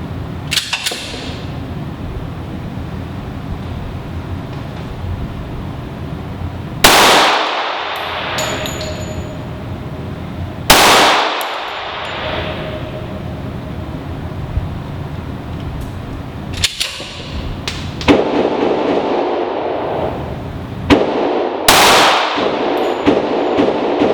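An M&P Shield 45 pistol fires at a steel target outdoors, with several sharp, loud reports spaced a few seconds apart, each followed by a ringing metallic clang and a short echo.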